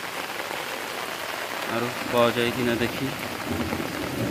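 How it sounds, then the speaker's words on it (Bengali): Heavy rain pours steadily onto a home courtyard in a dense, even hiss, close and continuous, as someone speaks briefly over it. "কীভাবে বৃষ্টি পড়ছে"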